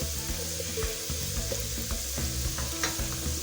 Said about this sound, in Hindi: इसको हमने ज़ीरा और लहसुन के साथ फ्राई किया।